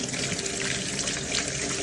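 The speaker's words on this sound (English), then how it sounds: "As he pours water into the coffee making machine, it is very clear to see that it's foaming with bubbles." Water poured into a coffee making machine, a steady, close splashing and trickling stream that runs unbroken throughout with no voices.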